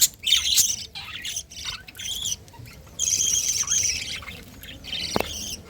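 Pet birds squawk in a colony cage, harsh high-pitched calls bursting out repeatedly and overlapping, loud and close with no talking.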